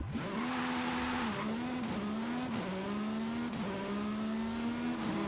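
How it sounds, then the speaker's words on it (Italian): A modified Aston Martin in a racing video game accelerates hard, its engine note climbing steadily and dropping briefly at each of several gear shifts, loud and continuous with no talking. "Ed eccoci qua pronti a vedere quanto va quest'auto."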